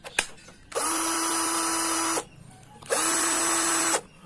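An NTR Pro DC 340 cordless drill whirs in two steady bursts of about a second and a half each, with a short pause between, close and fairly loud.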